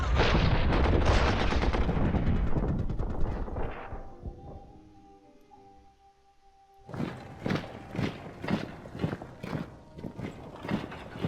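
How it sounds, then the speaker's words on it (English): Artillery in the World War I strategy game Commander: The Great War fires in a run of sharp repeated booms after a quieter stretch, with horse hoof clip-clop mixed in earlier. "Artillery, fire!"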